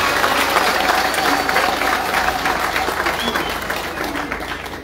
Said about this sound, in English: I want us to clap for the MMD.